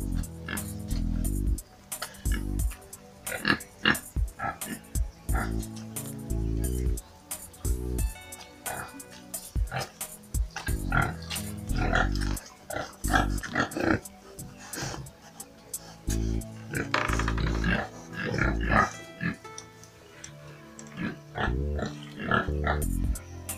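Pigs in a wooden pig sty on a farm in Uganda grunt and oink repeatedly in close, uneven bursts, with snorts and breathing between the calls.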